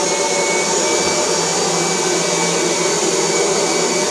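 A Kirby G4 80th Anniversary Edition vacuum cleaner runs with its fluffer attachment, a loud constant motor whine and airflow roar with no talking.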